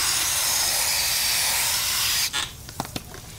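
A garden hose sprays water in a loud, continuous hiss to rinse a polishing pad, then cuts off abruptly, leaving a few short splashes and drips.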